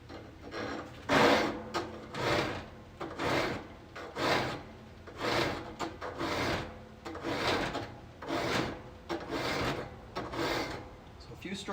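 A file rasps in repeated strokes across a hedge trimmer blade during sharpening, about a dozen steady, evenly spaced passes, close and fairly clear with no talk.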